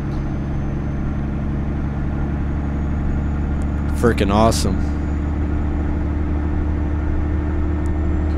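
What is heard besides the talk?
Dodge Bighorn CNT950 truck engine in American Truck Simulator video game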